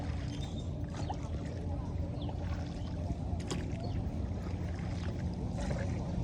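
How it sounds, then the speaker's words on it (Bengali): A boat being rowed across open water, with a steady wash of water and oar sounds under continuous outdoor noise, faint voices and splashes scattered throughout. "অনেক সুন্দর করে নৌকা চালাচ্ছে"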